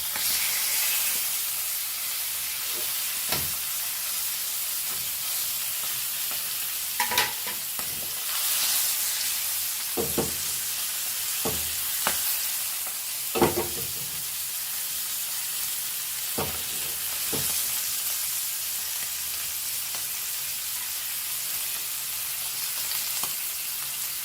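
Tuna fish frying in a pan for Goan recheado fry, a continuous loud sizzle broken by several sharp clatters and scrapes as the pieces are turned over.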